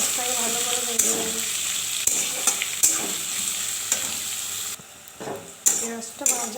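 Chopped onion fries in hot oil with whole spices in a wok, a continuous close sizzle punctuated by spatula scrapes and stirring clatters, with a brief quieter dip near the end.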